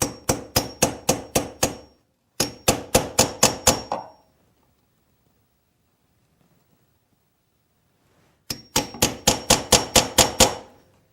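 A mallet strikes a Lie Nielsen drawer lock chisel in crisp, evenly spaced blows, three quick runs of about six hits each with a long silent pause before the last run.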